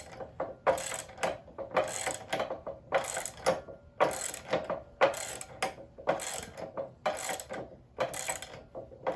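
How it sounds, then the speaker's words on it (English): Ratchet wrench clicking in quick bursts of rapid pawl ticks as it tightens a three-quarter inch nylon nut on a belt squat attachment, about nine strokes in an even rhythm, close and clear, with no talk. "Tighten this guy down."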